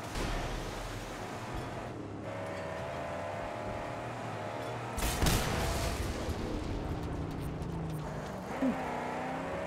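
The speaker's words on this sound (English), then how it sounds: "the explosions in this game are exciting" Explosions in the Mad Max video game set against a continuous roaring car engine, with a sharp blast around the middle and a smaller one later, both rising briefly above the driving rumble.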